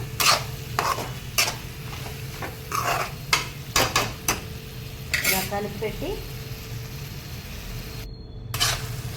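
Soaked chana dal is stirred in a pan for a curry. A spoon scrapes and clinks against the pan in irregular strokes over a steady low sizzle, and someone speaks briefly.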